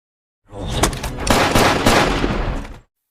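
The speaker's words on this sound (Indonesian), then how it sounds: "Ben melepaskan tembakan terakhir, mengakhiri hidup Kyle" Gunfire from a crime-thriller film scene: a loud burst of shots and booming reports packed into about two seconds, then silence.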